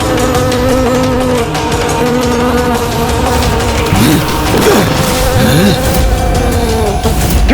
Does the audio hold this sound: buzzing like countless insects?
yes